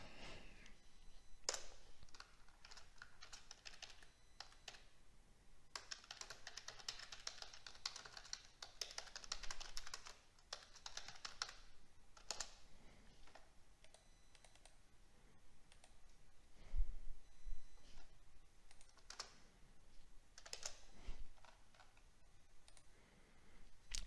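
Steady typing on a computer keyboard, quick clusters of soft key clicks with occasional louder taps, close and fairly quiet, with no voices.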